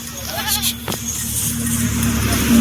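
Beetal goats on a Punjab farm give a bleating call, a single sustained nasal cry that fills most of the clip over steady background hum.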